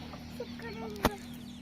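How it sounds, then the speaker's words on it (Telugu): Hens cluck softly outdoors, a few brief close clucks over a low steady hum, with one sharp knock partway through. "మా కోళ్ళు కోతులకు భయపడి ఇటు వచ్చేసినాయి"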